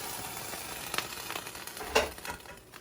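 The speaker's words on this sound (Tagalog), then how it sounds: "ito po, kumukulo na yung tubig natin." Water boiling in a cooking pot, a faint steady bubbling hiss with a few brief louder pops and splutters, heard alone.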